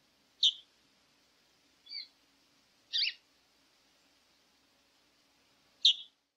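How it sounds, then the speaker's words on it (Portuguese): Chalk-browed mockingbird (sabiá do campo) giving four short, bright calls spaced across a quiet stretch, the first and last sharp and clear, the middle two softer, with faint background hum between them. "Sabiá do campo."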